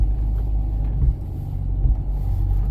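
A vintage Toyota Land Cruiser FJ62 drives along with a steady, deep engine rumble heard from inside the cabin, continuous and fairly loud, with no talking.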